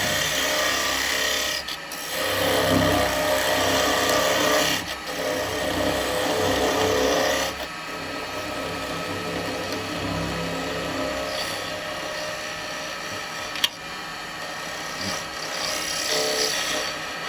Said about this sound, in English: now I'm going to come in with my feeding parting tool just to take this centre bit out